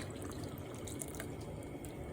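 Water poured from a cup into a pot for cooking oatmeal with chopped cranberries and dates, a soft, steady splashing trickle that is faint and continuous with no voices.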